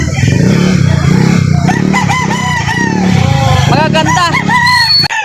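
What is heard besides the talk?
roosters crowing at a chicken market in Lipa City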